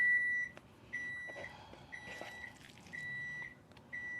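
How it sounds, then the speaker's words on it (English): Faint, repeated high electronic beeps sound in a regular pattern of short tones separated by brief gaps over a quiet background. "Beep, beep, beep, beep."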